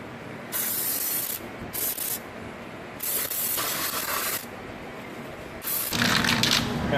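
Cleaner sprays onto the brake reservoir of a 1963 Buick Riviera in several short, close hissing bursts separated by brief pauses, with a longer spray at the end.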